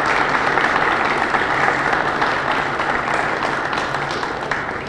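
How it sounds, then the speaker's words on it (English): Steady, dense applause from an audience at the opening of the McCoy Rec Center, loud and sustained for about five seconds with no voices over it. "he deserves a round of applause for his hard work"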